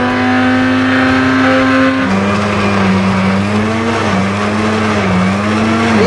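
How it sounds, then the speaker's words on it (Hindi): A kitchen mixer grinder blends chillies, garlic, ginger, onion and coriander for a mutton gravy, its motor a loud, steady whine that holds for the full stretch and dips in pitch a few times as the load shifts. "जनाब हमारी मिर्चें, लहसुन, अदरक, प्याज और धनिया जनाब ग्राइंड हो रहा है"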